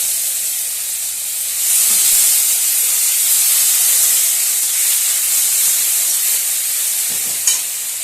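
Steady loud sizzling hiss of onion paste frying in hot mustard-seed-tempered oil, continuous throughout with slight swells, no voices.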